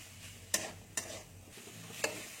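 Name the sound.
stirring coconut filling with melting jaggery in a pan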